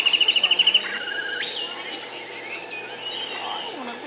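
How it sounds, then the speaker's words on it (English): Small parrots in a bird enclosure chirp and tweet, opening with a quick burst of rhythmic, repeated high calls followed by scattered whistles and twitters at moderate distance over a low background murmur. "the beautiful little parrots will land on you"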